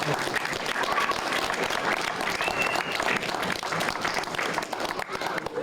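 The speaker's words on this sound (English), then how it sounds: "Come on, let's have a round of applause." An audience gives a round of applause, steady mixed clapping heard at moderate distance, with faint voices and murmurs underneath.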